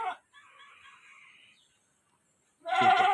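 A goat kept on a rooftop bleats twice, a short nasal cry followed after a pause by a louder, wavering bleat, close by with no talking.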